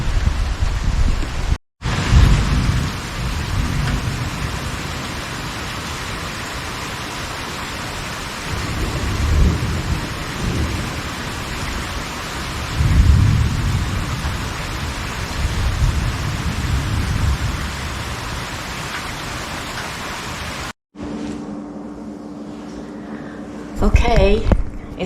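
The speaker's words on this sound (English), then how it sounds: "A thunderstorm has rolled in with some rain, and I guess it's set in for the afternoon" Rain falls steadily through a thunderstorm while deep rumbles of thunder roll in and swell repeatedly; a brief break cuts in near the end as another sound takes over.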